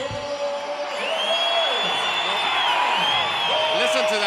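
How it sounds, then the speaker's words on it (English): A boxing arena crowd cheers Jaime Munguia's ring introduction at the Footprint Center, a loud sustained roar with whoops and shouts that swells over several seconds. "You're about to hear the crowd."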